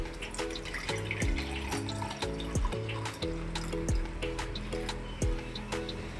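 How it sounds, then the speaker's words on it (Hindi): Room-temperature water is poured into a glass for a lemon detox drink, a steady liquid pour running throughout under a background of soft melodic tones. "सबसे पहले हम इसमें पानी ऐड करेंगे।"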